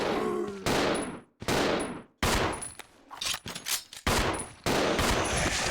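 Gunfire in the video game Resident Evil 0 rings out as a series of sharp, loud shots in uneven bursts, each followed by ringing tails, with short gaps between volleys.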